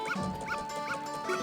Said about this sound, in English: is this dog trying to attack me?